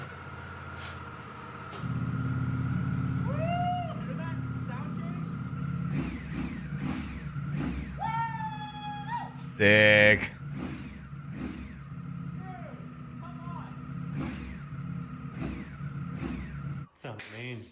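A motorcycle engine idles and then rises in a loud, rough rev near the mic, while people talk and exclaim over it.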